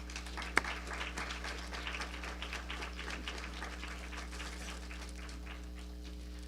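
Light applause at an award ceremony, a thin patter of hands from a modest audience heard at a distance, with a steady electrical hum underneath and one sharp tap near the start.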